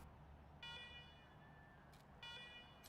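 A base alarm from the video game Wasteland 3 gives short repeated electronic tones, two bursts separated by a pause, faint and quiet, with no talking.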